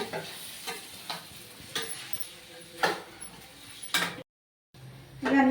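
A spoon scrapes and clinks around a cooking pot of alasanda guggulu (cowpeas) in a handful of separate strokes over a faint sizzle. A short silence breaks the stirring, and a voice is heard near the end.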